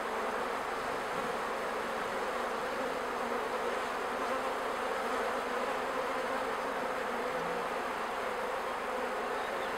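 Honeybees swarm around an open hive during a queen change, their dense, steady buzzing carrying close and unbroken throughout with no talk over it.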